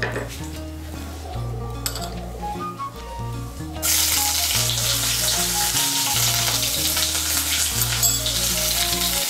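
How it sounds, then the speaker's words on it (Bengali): Ginger paste frying in hot oil with tempering spices for a vegetable moong dal; a loud, steady sizzle surges sharply about midway and continues with faint clinks of a spoon against the pan. "আদা বাটাটাকে তেলের সঙ্গে মিশিয়ে নেব।"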